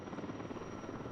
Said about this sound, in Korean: 굉음을 내며 다가오는 초대형 산불 진화 헬기